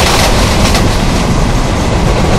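A train in the Trainz Simulator game on the Visakhapatnam route rushes along at high speed, a loud, dense continuous roar with faint rhythmic rail clatter.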